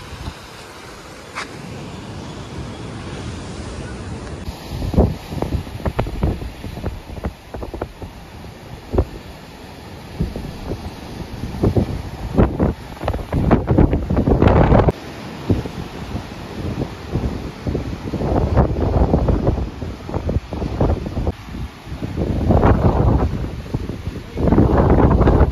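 Wind gusts buffet the microphone atop the view tower at Kanyakumari, a loud, rumbling roar that rises and falls unevenly, with the strongest blasts in the second half and no talking.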